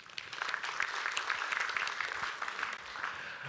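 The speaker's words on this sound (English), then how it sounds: "Give yourselves all a round of applause." Audience applause after a tech conference talk, a steady dense patter of many hands clapping throughout, fairly even and moderately loud with no pause.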